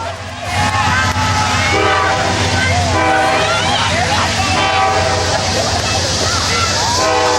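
A train rumbling past with its horn sounding in long sustained blasts over a heavy low roar, loud and close, during a solar eclipse gathering; voices briefly audible.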